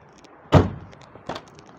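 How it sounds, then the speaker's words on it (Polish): Rear door of a Lada 2109 Samara hatchback: a sharp, loud thunk of the latch and panel, then a second, softer clunk about three-quarters of a second later, close by with no talk. "A tylne drzwi trzeba odblokować."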